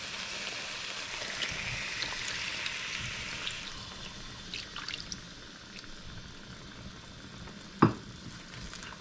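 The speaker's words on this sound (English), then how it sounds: "So first we're gonna add some coconut milk." Coconut milk poured into a hot pot of Hassar curry, a steady sizzle and frying hiss with stirring sounds, one sharp clink near the end, no talking.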